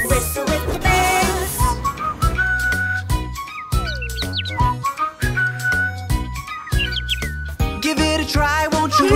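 Melodic whistling imitates birdsong, with chirpy trills and slides over a bouncy music backing throughout.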